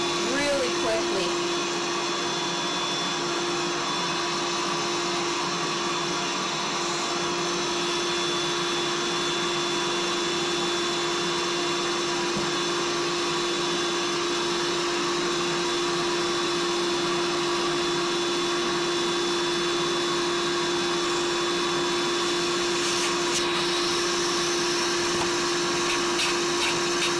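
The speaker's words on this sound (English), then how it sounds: "It does make a little bit of noise, and it's kind of like being in front of a fan when you stand near the pump, but it's deflating" Built-in electric pump of an Outbound twin double-high air bed deflating it, a loud steady whirring hum with a constant tone, close and continuous throughout.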